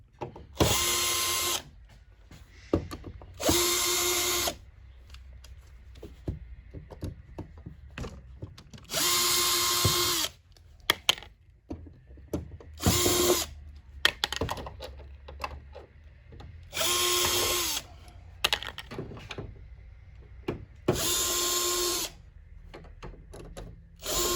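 A power driver spins screws out of a TV's back panel, whirring in about six loud, close bursts of a second or so each, with clicks and clatter of loose parts between them.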